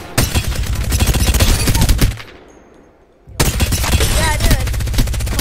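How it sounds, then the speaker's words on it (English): Rapid automatic gunfire from the Devotion gun in the video game Apex Legends, a loud dense burst of shots that cuts off for about a second and then resumes just as steadily. "I want to show you the devotion because it's my favorite gun."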